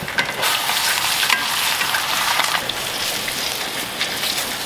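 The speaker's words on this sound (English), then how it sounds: "Now we'll flip the reverse sear steak over and just look at that crust." A reverse-seared steak sizzles loudly and steadily in a cast iron skillet, a dense continuous frying hiss with no voices.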